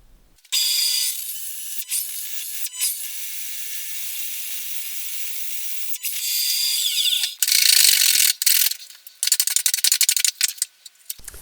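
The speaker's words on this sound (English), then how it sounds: "The bandsaw really struggled with that cut." Bandsaw cutting through a wooden guitar headstock, a loud hissing, rasping blade sound that starts abruptly, holds steady, then surges and sputters as the cut struggles and finishes.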